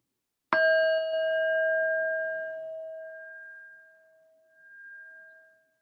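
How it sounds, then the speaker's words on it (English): A Tibetan singing bowl is struck once, giving a bright metallic onset that settles into a clear sustained ringing tone with overtones, slowly decaying and gently pulsing over several seconds. "this Tibetan singing bowl, so I will play it for you guys for a little bit"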